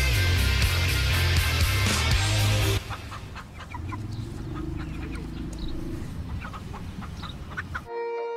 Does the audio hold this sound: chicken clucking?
yes